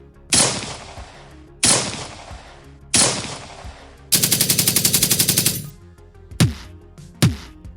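Gunfire effects in a dramatized Hindi comics audiobook: three single loud shots, then a rapid machine-gun burst of about a dozen rounds, then two sharper shots, each ringing out with echoing tails.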